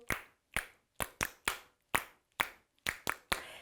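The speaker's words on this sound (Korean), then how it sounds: "오, 박수 소리." Children clap their hands at a church toddler service, about ten sharp separate claps in a loose, slightly uneven rhythm, fairly close and clear with no talk over them.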